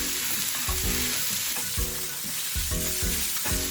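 Pork slices for ginger pork shogayaki sizzle steadily in a hot pan, with the close, rhythmic scrape and clatter of stirring repeated every half second or so throughout, and no talking.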